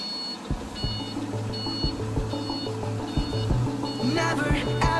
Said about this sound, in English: This Prime Mover truck made by Hyundai Motors.